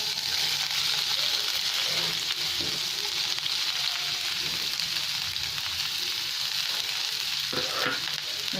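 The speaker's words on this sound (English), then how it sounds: "I'm going to add some onions." Onions fry in oil in a hot non-stick pan on a lowered flame, making a loud, continuous, even sizzle that fills the whole stretch, with a few faint stirring knocks underneath.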